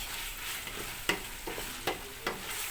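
Carrot, red pepper, diced meat, onion and garlic sauté in a pan for a pea stew, giving a constant hiss with a few sharp stirring clacks against the pan, close and unaccompanied by talk.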